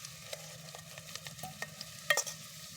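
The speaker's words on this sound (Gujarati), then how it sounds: "તેલ હવે સસરાટી બોલાવે છે." Onions frying in oil in a pan at a campsite, a soft, low sizzle broken by light stirring clicks and scrapes, with one sharper clatter near the end.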